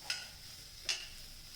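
A spoon stirs a spice tempering with pickle masala over a low flame: two quick, faint scraping strokes about a second apart over a soft, steady sizzle.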